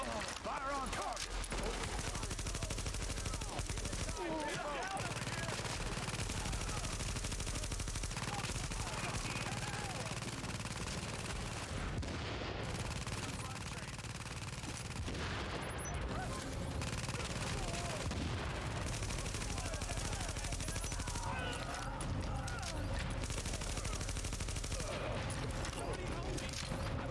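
Fairly quiet bursts of shooting in the post-outbreak city of Tom Clancy's The Division, scattered automatic volleys and thuds layered under voices and background game ambience.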